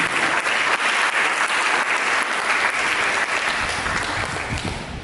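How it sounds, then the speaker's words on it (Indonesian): Congregation applauding during a church service, a loud, dense wash of hand claps that holds steady for several seconds before easing slightly toward the end, with no voices on top. "Mari kita berikan tepuk tangan ini."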